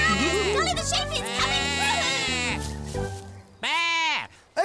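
Cartoon sheep bleats in a children's farm scene, with wavering voiced cries layered over background music and talk, ending in one loud, clear bleat near the close.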